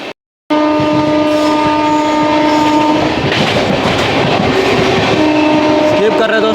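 The Amrit Bharat Express passes through Tundla Junction on the Delhi to Patna route, its loud sustained horn blaring over rattling wheels and clattering carriages after a brief quiet start.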